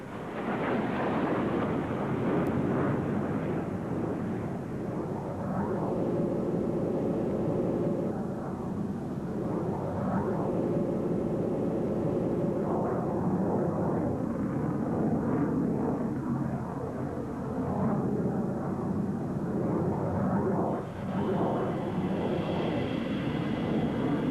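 A MiG-21 jet fighter flying an aerobatic display, heard as a steady, continuous roar of jet engine noise with shifting tones throughout, loud and unbroken, like a fast aircraft passing overhead.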